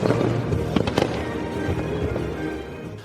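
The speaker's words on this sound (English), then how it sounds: "At night, they finished the day off with a spectacular fireworks display over the lake." Fireworks burst over a lake at night, a dense run of booming explosions and crackles, with several sharp louder pops standing out early on, loud and sustained throughout with no talking.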